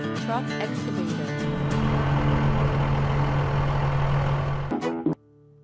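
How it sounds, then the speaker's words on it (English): A truck excavator engine in a vehicle game runs loudly at a steady, heavy drone with shifting mechanical tones, then stops abruptly near the end. "Truck excavator."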